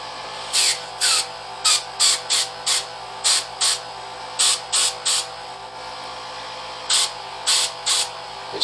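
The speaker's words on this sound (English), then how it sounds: "This is a single action, not a double action airbrush." A single action airbrush fires a series of short, sharp hissing bursts of spray, each about a quarter second long, in an irregular rhythm, close and fairly loud over a quiet background.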